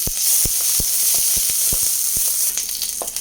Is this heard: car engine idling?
no